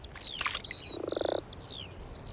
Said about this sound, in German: Krokusse und Grasfrösche erwachen gleichzeitig aus der Winterruhe und gleichermaßen massenhaft.